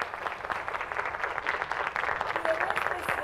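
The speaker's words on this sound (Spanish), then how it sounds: "¿Aplausos?" An audience at a school ceremony applauds teachers, a moderately faint, even patter of clapping from a crowd with a voice briefly over it.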